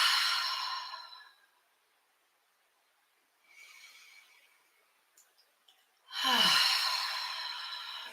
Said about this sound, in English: And take a deep breath.